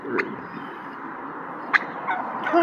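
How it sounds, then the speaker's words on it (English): A turkey on the street in Portland gobbles in short bursts, a couple of sharp rattling calls standing out near the start and around the middle over steady outdoor background noise, with more calling toward the end. "Is that turkey?"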